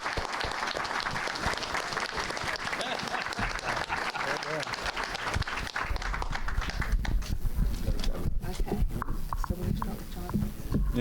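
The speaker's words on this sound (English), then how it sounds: "Let's give him a round of applause." Applause from the audience at a Brazos County Tea Party political candidate forum, steady clapping that fills the room for several seconds and then thins into scattered claps and crowd shuffling.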